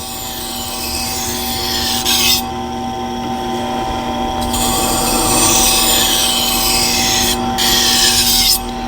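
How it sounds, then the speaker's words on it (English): Kitchen knife ground on the stone of a Tormek T-2 Pro sharpener, a steady close rasping scrape with a constant motor hum beneath, broken by brief pauses as the blade is lifted between a few passes in each direction. "just 2 or 3 passes in each direction on this stone"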